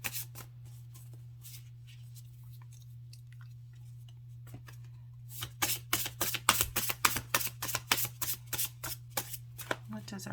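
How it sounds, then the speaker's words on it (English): A tarot-style oracle deck called Heart Mender gets shuffled: a quiet start with soft handling over a steady low hum, then a rapid run of crisp card flicks and riffling taps close by. "I'm going to go ahead and shuffle this deck now on this heart mender."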